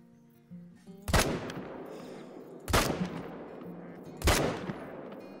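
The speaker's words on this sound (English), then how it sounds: "I'm going to go ahead and shoot these guys." Three loud rifle shots ring out at steady intervals while hunting whitetail deer in a hunting video game, each a sharp close crack followed by a rolling echo that fades before the next.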